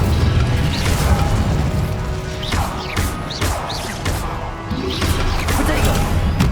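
Incendio fire spell cast in the Hogwarts Legacy video game, a series of loud fiery bursts and crackling whooshes with several sharp impacts, dense and continuous over a rumbling game soundscape.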